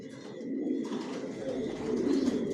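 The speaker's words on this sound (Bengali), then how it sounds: "কোয়ালিটি সম্পন্ন কবুতর পালি" Racer pigeons in a breeding loft coo softly and continuously close by, a low, murmuring chorus with no talking.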